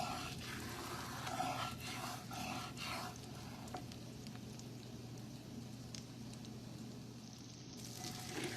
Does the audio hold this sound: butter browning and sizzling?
yes